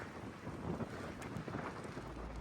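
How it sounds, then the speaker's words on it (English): Cold wind buffets the microphone during a spring downhill bike ride, a steady rushing roar with gusty low rumbles and no speech. "That wind is cold."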